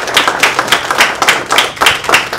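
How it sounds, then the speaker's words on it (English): Close, loud clapping from a small audience welcoming a village mayor at a utility relief-fund announcement, brisk rhythmic handclaps continuing without a break. "Let's give him a round of applause."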